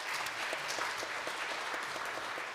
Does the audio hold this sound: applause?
yes